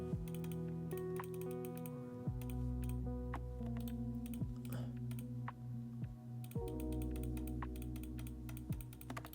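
Loud, rapid keyboard typing and mouse clicking during a Hypixel Skyblock session, a dense run of sharp clicks and key taps continuing throughout over steady background music.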